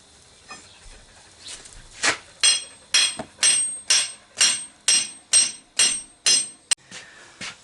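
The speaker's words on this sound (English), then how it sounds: "I'm going to take a 1-inch bar, try just driving it through the wall." Repeated heavy hammer blows driving a 1-inch steel bar through a wall, about a dozen loud ringing metallic strikes at a steady, slightly accelerating rhythm, close by.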